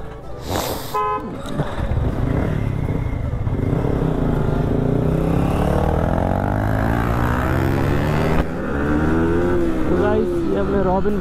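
A motorbike speeding along a rough village road, its engine droning loudly and steadily throughout, with a brief horn-like toot near the start and people's voices mixed in under the engine noise.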